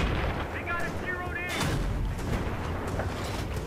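Gunfire and booming blasts in the video game Battlefield 3, a dense, loud rumble of shots and explosions with a brief whistling tone near the start.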